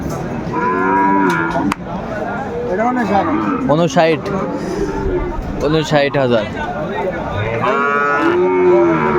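A Sahiwal cow moos loudly several times at a cattle market, long drawn-out lows cutting through a crowd's chatter, with a voice calling prices in between.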